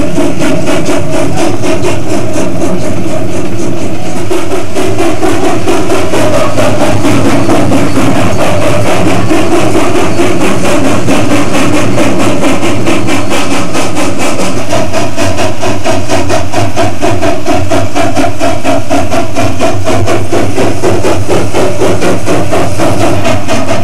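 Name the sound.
Rio Grande Southern narrow gauge train with helper engines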